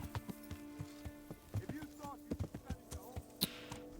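Horse hooves clopping in the medieval video game Kingdom Come: Deliverance, a run of distinct, fairly close thuds in an uneven rhythm, with game music and background clatter underneath.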